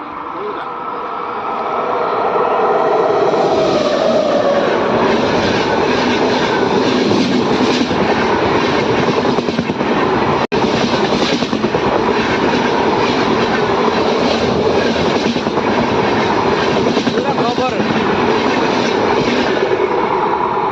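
A train rumbles past outside in a continuous loud roar with rattling wheel noise, building over the first few seconds and holding steady to the end.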